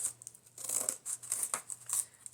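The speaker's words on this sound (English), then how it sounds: "So I'm just going to cut right here" Scissors snip through the cover of a handmade junk journal with quick, faint, crisp cuts and light tearing of paper, in a rhythmic run of short bursts close by.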